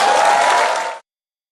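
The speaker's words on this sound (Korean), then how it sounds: "경례 박수 한번 부탁드립니다" Brief burst of audience applause, steady dense clapping that cuts off abruptly after about a second.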